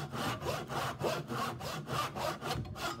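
A hand saw cuts through wood for a half lap joint using a sawing board and bench hook, about six rasping back-and-forth strokes at an even rhythm, close and clear with no talking.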